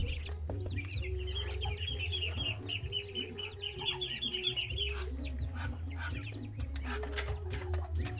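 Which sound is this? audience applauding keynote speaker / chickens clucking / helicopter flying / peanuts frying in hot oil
chickens clucking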